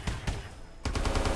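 Bursts of gunfire from a modded Minecraft game with new weapons, two clusters of loud rapid shots separated by a brief lull, close and without talk.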